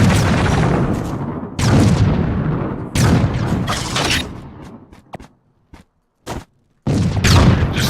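Bursts of explosions and heavy booming from bombs going off in a cave-exploring video game, arriving in loud clusters separated by brief quiet gaps.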